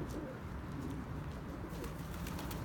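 Male pigeons coo in a rooftop coop, soft repeated throaty calls close by over a steady background hum, with no talking.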